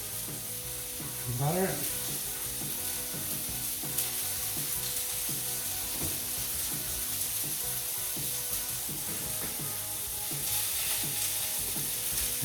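Meat patty frying in a pan with a steady, close sizzle running throughout, while kitchen clatter and brief clicks sound over it and a voice speaks a few words.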